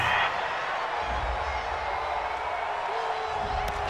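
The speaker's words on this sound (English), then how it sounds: "This home crowd, they're happy with that call." A home stadium crowd at an NFL playoff game cheers a referee's call, a broad, steady roar that holds loud and dense across the whole stretch without letting up.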